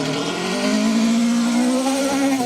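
A two-wheel-drive rally car on a forest stage of the Trackrod Rally Yorkshire revs loud and sustained as it passes, its engine pitch sliding slightly as it goes by.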